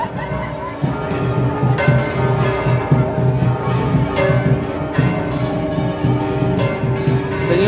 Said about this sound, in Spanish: Oigan, más que bonito, tocan las campanas.